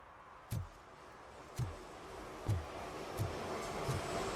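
Rhythmic low thumps roughly once a second as a train rolls by on an elevated track overhead, heard from underneath in the video game RoboCop: Rogue City, over a steady rumbling hiss, fairly faint.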